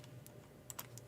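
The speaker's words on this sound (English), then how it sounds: "Keyboard's gonna be stupid." Faint keystrokes on a computer keyboard tap out a few soft, sparse clicks over a quiet low hum, with one quick pair of presses standing out.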